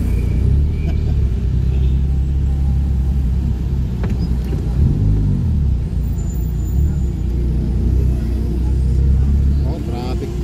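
A car travelling through road traffic on Halsema road toward Baguio City, a continuous low engine and road rumble from inside the vehicle with passengers talking over it.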